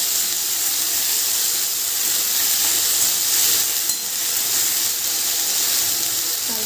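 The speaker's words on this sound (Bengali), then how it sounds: "একটু ভেজে নেব।" Taro stolons frying in hot oil in a pan, a loud, steady close sizzle and hiss running throughout with no speech.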